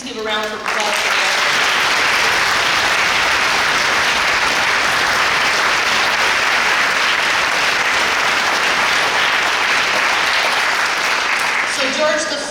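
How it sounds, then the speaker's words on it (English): Dense, steady applause from a gathered audience at a foundation board presentation, loud and continuous for about eleven seconds, with brief voices at the start and end. "Please give a round of applause for them."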